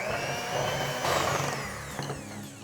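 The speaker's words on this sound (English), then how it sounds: "let's go ahead and cream these together with a mixer" An electric hand mixer whirs steadily while creaming butter and sugar for sugar cookies, a continuous close motor buzz with slight shifts in load and no talking.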